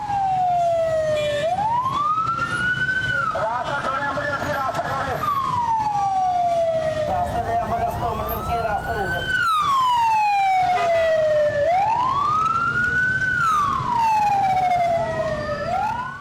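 An Edhi ambulance siren wails loud and close on a road, its rising and falling cycles repeating steadily over traffic noise.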